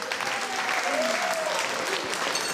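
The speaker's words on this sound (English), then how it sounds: "Let's give a big round of applause to our judges." An audience applauds the judges at a community chef's challenge cooking event, steady clapping filling the room for a couple of seconds, with a few voices and whistle-like tones mixed in.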